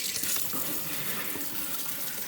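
Tap water pours steadily into a kitchen sink while pork is rinsed, a close, continuous splashing rush with no voices.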